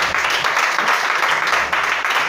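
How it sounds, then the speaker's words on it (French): Congregation in a church applauding, a steady, dense wash of clapping from many hands sustained throughout. "On acclame Jésus pour les enfants."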